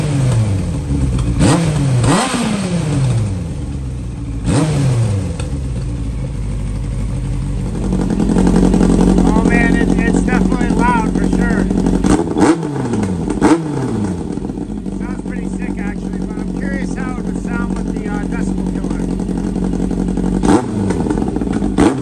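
A warmed-up, restored Yamaha R1 sport bike with a dB killer fitted in the muffler, revved loud and close in repeated sharp blips that climb and fall back to idle, with a steadier held rev in the middle and a voice talking briefly at times.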